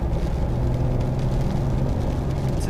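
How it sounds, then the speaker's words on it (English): Loud, close engine rumble from inside a V6 car driving on a road, a steady low drone with a hum that holds level throughout. "It's a V6 engine."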